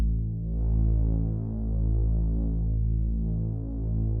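Reese bass synthesizer tone with its low-pass filter cutoff lowered, a dark, thick sustained drone with slow phasing throb that swells and dips in a steady cycle, played alone.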